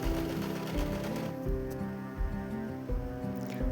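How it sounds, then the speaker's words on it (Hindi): Sewing machine stitching a plain blouse along the hook-and-eye placket, a steady rhythmic mechanical whir with regular ticking pulses and faint tonal hum, moderately quiet and continuous. "बीच सेंटर से अपने हुक और काज की पट्टी को रखते हुए"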